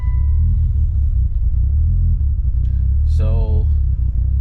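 A Mitsubishi Evo 5 engine runs with a loud, steady low rumble that slightly rises and falls throughout, while someone talks over it briefly.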